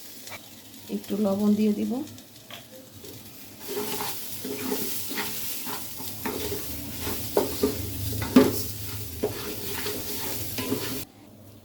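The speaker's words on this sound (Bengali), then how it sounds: "এবার আমরা চাল দিয়ে দিব।" Rice tipped into a hot pot of frying chicken biryani base, a scattering pour followed by steady sizzling and scraping stirs with clinks of a utensil, close and moderate, with a voice speaking briefly near the start.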